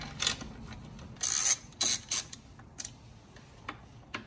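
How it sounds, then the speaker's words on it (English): A 12mm ratchet works bolts loose on a 2015+ Subaru STI, with close, bright bursts of rapid pawl clicking separated by quieter handling noises and short pauses. "Now we're going to need a 12mm ratchet and take these two bolts off"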